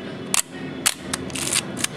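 A Leica R3 SLR camera fires its shutter in manual mode, giving several crisp mechanical clicks spaced irregularly over two seconds, close and clear above a faint hum.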